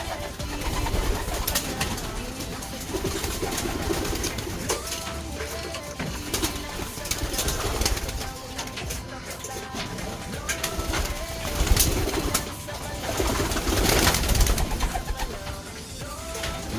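Racing pigeons cooing and fluttering as they are let out of their loft, a busy continuous mix of coos, wing flaps and rustling over steady background noise.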